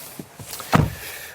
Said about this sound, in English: Still, the rear door does open decently wide.